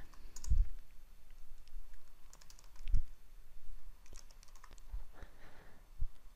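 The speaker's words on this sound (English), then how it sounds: "we simply go to the pathogen field and type in the species we are interested in" Quiet clicking of keys as a species name is typed on a computer keyboard, a sparse, irregular run of light taps with a few firmer strokes spread across several seconds, no talking.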